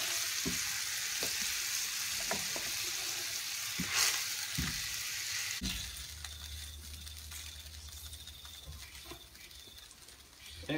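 Butterflied chicken and potatoes fry in a large restored cast iron skillet, a continuous soft sizzle with scattered pops and clicks, then a clank as something heavy is set on top and a lower, steadier hum of frying follows.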